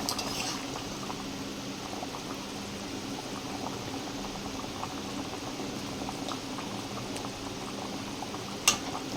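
Potatoes simmer in a pot of water for a Bengali egg curry, giving a steady, continuous bubbling hiss that holds evenly throughout, with one brief clink of utensil near the end.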